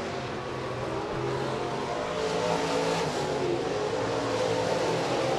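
USRA stock cars race at Rapid Speedway in a heat race, their engines a steady, loud roar filling the track with a continuous rumble.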